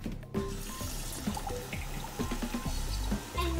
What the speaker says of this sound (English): you're gonna need to fill this up halfway with water